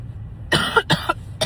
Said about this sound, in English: I'm still coughing like crazy.